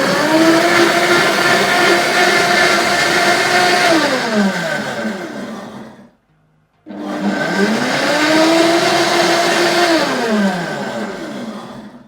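Amzchef UK-XL-05-SG countertop blender running its water cleaning cycle: a loud, steady motor whir with sweeping pitch ramps, stopping briefly near six seconds before starting again for a second burst of similar length.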